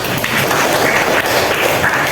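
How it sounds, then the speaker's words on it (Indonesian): Classroom applause from students during an Islamic studies lesson on animal slaughter, a loud continuous patter of many hands clapping close by, with little talk over it. "Oke, tepuk tangan dulu."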